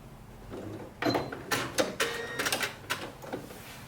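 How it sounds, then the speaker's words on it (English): A sewing machine stitching the side seams of a tiered dress, heard close up as several short bursts of rapid mechanical clatter separated by brief pauses, no talking. "take it to your sewing machine, and then you join the side seams together"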